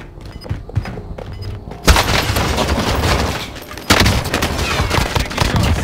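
Call of Duty Warzone gunfire on Rebirth Island: a few sparse shots at first, then loud, dense bursts of rapid fire and booms that continue close and heavy to the end.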